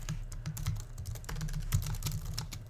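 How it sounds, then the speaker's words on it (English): Fingers type on a computer keyboard in a rapid, uneven run of close clicking keystrokes over a low steady hum, with no talking. "which is accomplished just by typing break with a semicolon on the end"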